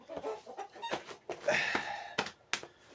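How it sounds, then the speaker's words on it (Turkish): Two roosters cluck and call in a series of short, close bursts, with one longer squawk in the middle, and no talking. "ben iki horoz getirdim tabi"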